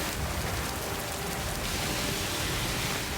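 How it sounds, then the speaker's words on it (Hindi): Heavy rain with thick drops pours steadily in Dibrugarh, Assam, a dense, even hiss of rainfall on surfaces filling the whole stretch without any voices. "सुबह से बारिश की मोटी बूंदें गिर रही हैं"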